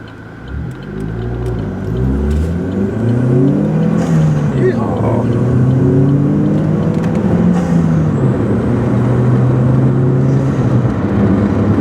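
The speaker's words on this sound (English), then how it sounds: "Make it go. Get it into 6th gear." A car accelerates while the driver shifts up into sixth gear, the engine note dropping and climbing again as a steady, loud rumble of road and engine noise runs throughout.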